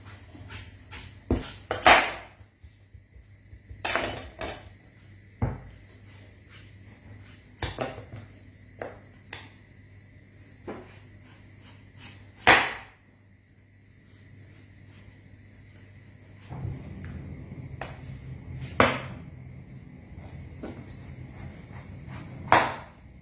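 Butternut squash being chopped on a kitchen board: irregular sharp knife knocks and clacks, some in quick clusters and others spaced out, close and fairly loud, with faint kitchen background and no talk.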